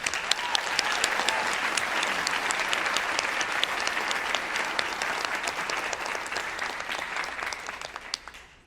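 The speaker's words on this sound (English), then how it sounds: "Let's have another round of applause for Joy." Audience at a New York School of Interior Design commencement ceremony gives a sustained round of dense applause, steady and full for several seconds before slowly tapering off at the end, with no one speaking over it.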